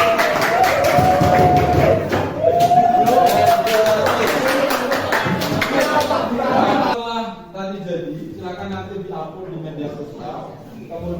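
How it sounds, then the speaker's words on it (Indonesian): Students in a classroom clap for all the groups in a dense burst of applause that ends after about seven seconds, and then voices talk. "Tepuk tangan untuk seluruh kelompok."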